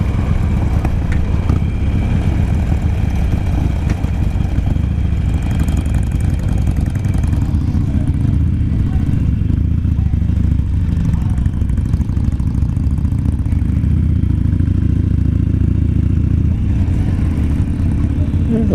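Harley-Davidson Sportster motorcycles at a charity ride event, a loud, constant low engine rumble that is close and unbroken throughout, with little variation.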